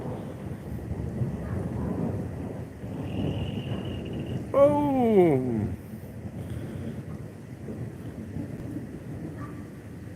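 Thunder rumbles from a storm over cane fields, a long low roll that swells midway before settling back into a background rumble, with a single short spoken exclamation.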